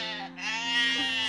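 A single sheep bleats in a drawn-out, wavering call heard up close and alone, rising slightly toward the end.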